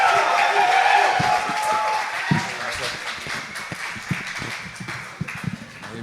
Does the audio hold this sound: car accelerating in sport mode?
no